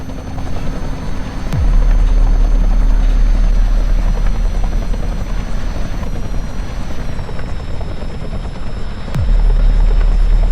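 Helicopter in the Kerbal Space Program video game coming in to land near a crash site, a loud steady rotor drone with a sharp engine tone that shifts pitch as it descends, heard alone without talk.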